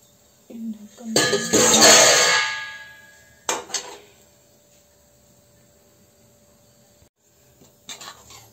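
A metal lid clangs onto a cooking pot of Uttar Pradesh-style pea nimona, with a bright ringing clatter followed by a second shorter clink and a faint later rattle, close by.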